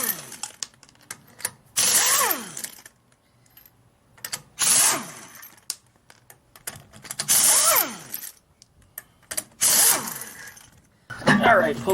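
Loose lug nuts come off a 1956 VW Beetle wheel under a ratcheting socket wrench, four quick close bursts of clicking spin with short pauses and handling knocks between them.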